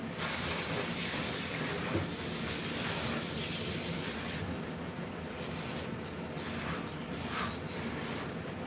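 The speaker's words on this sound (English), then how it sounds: "Alright, let's rinse." A water sprayer hisses in a steady, close spray while rinsing a Persian cat during grooming, continuous and even throughout with slight dips in intensity.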